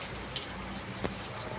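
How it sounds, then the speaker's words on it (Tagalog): Heavy rain pours steadily in a dense, even hiss with occasional louder drops splashing nearby, constant throughout with no voices. "Grabe, sobrang lakas ng ulan to mga lods."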